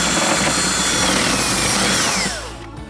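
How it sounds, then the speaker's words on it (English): A power drill bores a hole through an exterior wall to fit a two-storey home's kitchen hood exhaust, whining loudly and steadily with a falling pitch sweep before it winds down near the end. "So the first thing I did over here is drill a hole"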